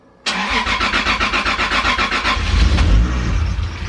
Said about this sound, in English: I'm gonna put the key, I'm gonna turn, and we're gonna start the car.